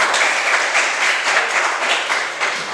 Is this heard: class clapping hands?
yes